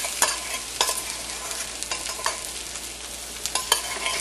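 Spoon stirring saffron-infused milk into a rice preparation in a pot, soft scraping strokes at an irregular rhythm with a light sizzle underneath, close and fairly quiet.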